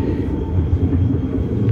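A SkyTrain car rolls over a track switch on an expansion line, heard from inside as a steady low rumble with faint rhythmic wheel clatter and no voices.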